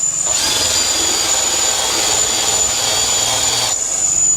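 A cordless Makita-powered drill brush whirs steadily at high speed while cleaning a Land Rover Discovery interior, starting up just after the beginning and cutting off near the end, loud and close.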